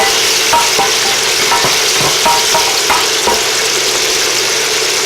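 Garlic sautéing in a hot pan, the first step before onions and tomatoes, makes a loud, continuous sizzle close up, with repeated light stirring knocks and scrapes and no voices.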